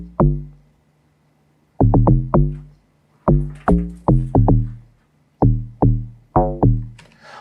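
Analog log drum in an FL Studio amapiano track, deep pitched bass thumps played in short syncopated groups with gaps between phrases, loud and dry with no voices.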